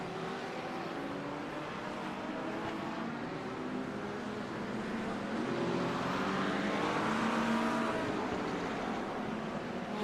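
A train of GT4 race cars in iRacing drives past in a multiclass race at Sebring. Several engine notes layer and shift pitch in a continuous loud roar that swells slightly in the second half.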